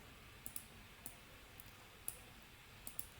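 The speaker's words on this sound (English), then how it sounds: "Let me click on add" A computer mouse clicking in sharp, quiet, close single and double clicks spread irregularly across a few seconds over faint room hiss.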